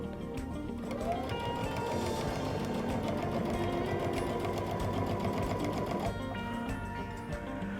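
A Baby Lock Altair sewing machine stitching a pillow seam, running in one steady continuous whir with a rapid needle rhythm, close and fairly loud, then easing off near the end.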